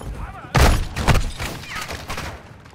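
Gunfire rattles in a Call of Duty DMZ match, with several loud bursts of shots and heavy thumps arriving close together, then trailing off into scattered reports.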